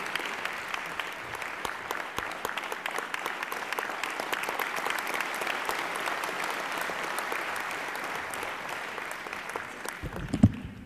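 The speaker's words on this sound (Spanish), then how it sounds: "Ahora démosle un aplauso para que reciba el premio." Sustained applause from a large audience at an award ceremony, a steady wash of clapping with some individually distinct claps, fading out near the end.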